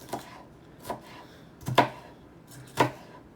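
Four sharp knife chops spaced apart on a cutting board as vegetables are cut up in a home kitchen, close and fairly quiet, with no talking.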